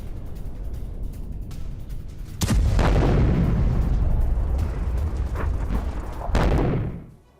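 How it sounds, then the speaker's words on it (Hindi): Israeli bombing strikes on a Hezbollah stronghold in Lebanon. Loud blasts boom at a distance, with two sharp explosions about four seconds apart, each followed by a long rumbling roar. There is no talking. "धमाकों से दहला पूरा हिजबुल्लाह का गढ़"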